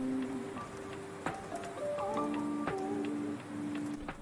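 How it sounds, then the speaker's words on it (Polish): Rain falling in the Minecraft video game, a steady soft hiss of drops running throughout beneath gentle, sustained musical tones and a few sharp clicks. "O kurde, deszcz pada, widzowie"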